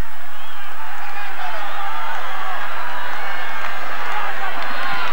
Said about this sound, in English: And this crowd is wakening up.